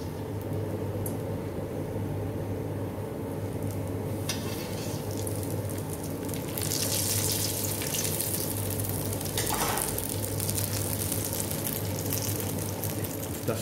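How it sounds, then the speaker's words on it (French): Cheese and herb koftas fry in hot oil with a steady, dense sizzle and crackle that keeps going without a break, close up and with no one talking. "Nous allons maintenant passer le kofta à l'huile de friture."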